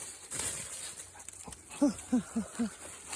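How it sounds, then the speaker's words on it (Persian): Small apartment dog giving a short series of four quick yips or whimpering barks, close, after a quieter stretch of room noise. "مثلا این سگ کوچولو رو شما نگاه کنید"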